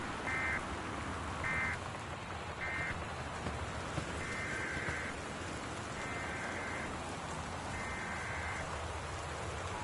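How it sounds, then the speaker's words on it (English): Torrential rain in the game Gone Home, a dense, steady hiss of heavy downpour filling the scene, with a repeating electronic warning tone sounding in short beeps and then longer pulses over it. "The Northwest Weather Service reports high winds and torrential rain conditions"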